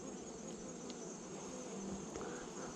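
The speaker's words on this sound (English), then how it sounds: "Normally I would shake these bees, but it is the main portion of the hive, our brood box." Honey bees buzz steadily around an open hive brood box, a dense continuous hum of many insects heard alone at low volume with no talking.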